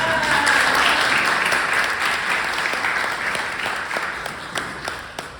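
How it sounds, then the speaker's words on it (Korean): Steady applause from an audience at a book talk on the climate crisis, a dense, even wash of clapping that starts full and slowly thins over several seconds. "우리 사회자님께서 박수 한번 쳐주세요."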